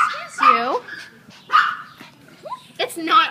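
A scared puppy at an animal shelter gives a few short, high whimpers and yips, spaced out and close by, while a person talks softly over it.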